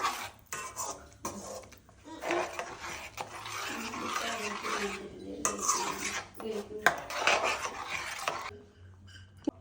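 A spoon scrapes and clatters around a pan in steady stirring motions, close up, with occasional metallic knocks and brief pauses.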